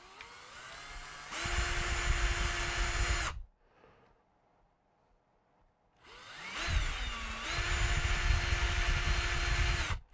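A power drill bores into a Master Chief helmet piece during a Halo helmet build, whining loudly for several seconds, stopping into near silence, then starting up again and running just as loud.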